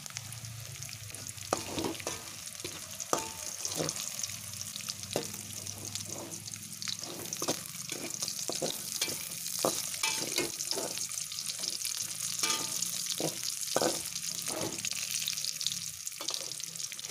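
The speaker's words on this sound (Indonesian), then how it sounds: "kalau sudah harum kita masukkan terisnya ya ikut digoreng juga" Anchovies sizzling steadily in a wok while a utensil stirs and scrapes them in irregular knocks, close and continuous.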